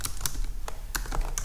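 Quick bursts of computer keyboard typing as code is entered, a handful of close, crisp keystrokes with short pauses between them, no voice.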